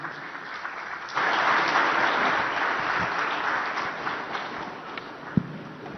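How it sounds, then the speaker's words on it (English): Applause from the audience at an ICID Congress plenary session in Visakhapatnam, kicking in suddenly and continuing as broad, steady clapping from a large hall, with a sharp thump near the end. "this deserves a louder round of applause from everyone here"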